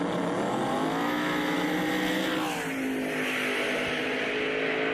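Drag race cars roaring side by side down a street racing strip, a loud sustained engine howl with a falling pitch as they pass, heard from trackside.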